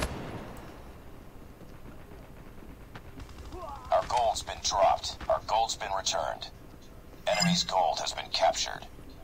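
Bursts of HBRa3 rifle fire in the shooter game Call of Duty: Mobile, two clusters of rapid shots from about four seconds on, fairly loud over quieter game ambience.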